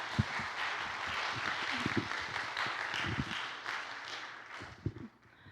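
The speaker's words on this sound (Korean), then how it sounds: "우리 성도님들을 향해 감사의 박수 한번 치겠습니다." A church congregation applauding together in a hall, steady broad clapping from many hands that carries on for several seconds and fades near the end, with no talking over it.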